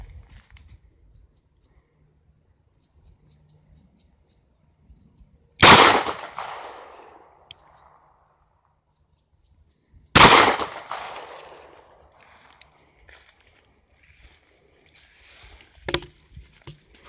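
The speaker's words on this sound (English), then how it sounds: "Well, looks like I'm shooting 2 inches over there." Two sharp, loud gunshots from a Smith & Wesson M&P Shield pistol ring out several seconds apart at an outdoor target range, each trailing a short echo, with light handling sounds in between.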